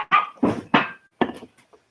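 A dog gives a quick series of about four sharp barks close by, followed by a couple of faint softer yips trailing off.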